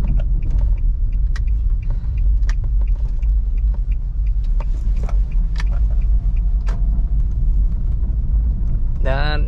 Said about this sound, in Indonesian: Grand Livina tipe SV Matic ya ini ya,